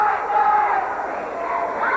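Crowd cheering in the stands at a high school JV basketball game, Gate City against Marion, a continuous close wash of many voices, steady and loud without distinct peaks.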